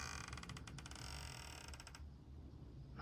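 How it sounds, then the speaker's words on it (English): A wooden chicken coop door on a homestead creaks open with a run of rapid ratcheting squeaks and clicks for about two seconds, then stops, leaving a low steady background hum. "Yeah, and that door ain't quiet."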